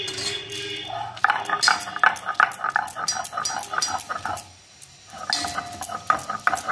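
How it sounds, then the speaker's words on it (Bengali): Ginger, green chilli and garlic are ground into paste by hand beside a lit cooking fire, with rhythmic scraping and knocking strokes, a brief pause near the end, then grinding again. "এবার প্রথমে আমি এখানে দেখুন আদা, কাঁচা লঙ্কা, রসুন বেটে নেব"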